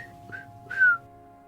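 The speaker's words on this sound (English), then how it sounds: "That was a very odd way of whistling, Lalatia." The character Lalatia whistles in the video game Morrowind with three short, odd rising-and-falling notes, the last longest and loudest, over a quiet steady game hum.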